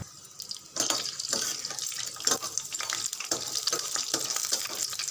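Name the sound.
dried red chili, chana dal, cumin and green chili frying in oil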